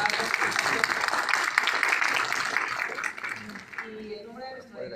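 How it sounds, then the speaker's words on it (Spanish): An audience at a law lecture in Lima gives a guest speaker sustained applause, dense clapping that fills the room steadily, then thins and fades toward the end as a voice starts speaking over the last of it. "Le voy a pedir un renovado aplauso para nuestro invitado"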